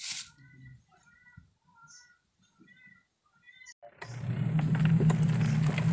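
A Star Crown 8.5 kg washing machine motor starts running after a broken gearbox is replaced, rising abruptly into a loud steady hum and rumble after several quiet seconds of faint background chirps.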